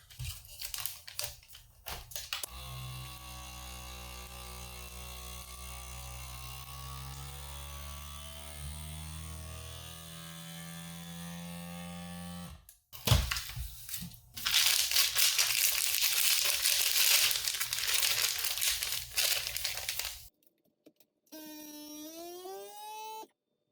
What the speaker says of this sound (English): then we're just sealing these up in the old FoodSaver